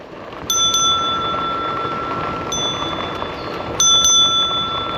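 Two quick double rings of an e-bike bell, about three seconds apart, sounding clear and close over steady trail and wind noise, rung at turkeys on a trail.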